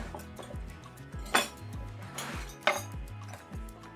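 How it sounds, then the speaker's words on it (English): Metal cutlery (knives, forks, spoons and teaspoons) clinks inside a small, flat, sewn cloth bag, giving sharp jangling chinks at irregular moments over a low tonal background. "So now I've sewn a little bag, flat bag for the cutlery."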